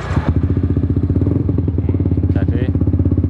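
A modified Yamaha Vixion motorcycle engine runs close and loud with a rapid, even pulsing throb, holding its revs through a short RPM test.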